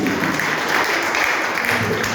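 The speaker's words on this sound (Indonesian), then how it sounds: "Tepuk tangan ya" A church congregation claps together after a testimony, a dense steady applause that holds at an even level throughout with no break.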